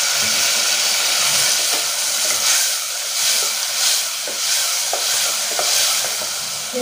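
Onions and tomatoes sautéing in a pan for sambar, a loud continuous sizzle and hiss with occasional scraping stirs and small pops, no voices over it.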